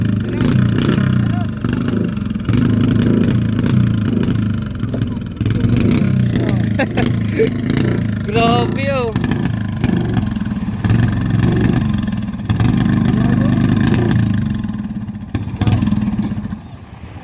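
A powerful racing boat engine drones loudly and continuously with a rough, sputtering, misfiring rumble at a boat race, while a voice briefly exclaims over it.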